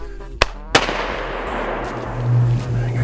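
Two sharp, close rifle cracks come quickly one after another at a deer in the woods, followed by a rumbling echo and steady low outdoor noise.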